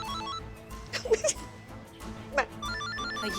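A phone rings with a repeating electronic ringtone in an indoor scene, heard fairly close under loud background music and scattered voices.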